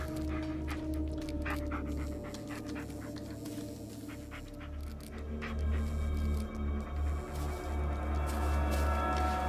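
A dog named Bullet pants in the game Blair Witch, quick rhythmic breathy huffs close by that grow louder and heavier in the second half over a steady low ambient hum.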